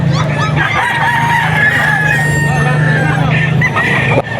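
Bull stag gamecocks crowing at a rooster auction market, one long, loud crow close by while someone talks over the bird and clucking and crowd noise fill the background.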